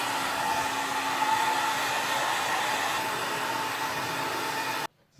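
A hair dryer runs steadily and loudly at close range, a constant airy whir with a faint tonal hum, then cuts off abruptly near the end.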